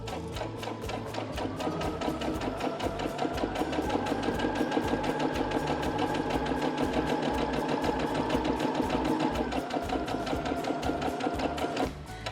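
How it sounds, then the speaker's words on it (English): A Baby Lock Jubilant sewing machine stitches straight down a length of fabric, its needle clattering in a fast, even mechanical rhythm that runs steadily for the whole stretch before stopping at the end. "Now I'm going to stitch right down the length of my fabric."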